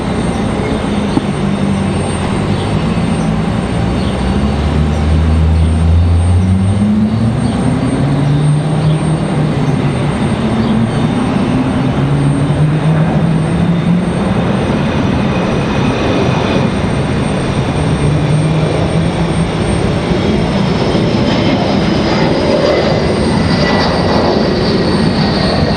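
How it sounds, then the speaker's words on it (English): Air Canada Embraer E175 regional jet departing Raleigh-Durham toward Toronto, a loud sustained engine roar with sliding whine tones that rise and shift across the whole stretch, heard alone without talk. "next up, Air Canada to Toronto"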